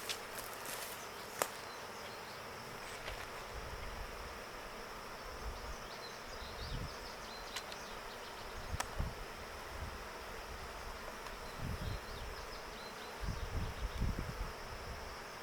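A wild honey bee swarm buzzes outdoors as a steady, faint hum that runs the whole time, with occasional closer insect passes and soft rustling but no talk.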